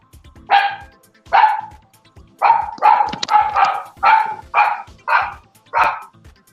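A dog barks in a series of about eight sharp, loud barks, evenly spaced, close by and clear against a quiet background.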